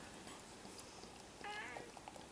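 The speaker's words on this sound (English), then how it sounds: "And get rid of that cat." Brief, faint cat meow in a room, heard once over low background noise.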